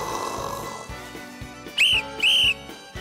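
Two sharp, loud whistle blasts, each about a third of a second long, calling a dog, over faint outdoor background noise.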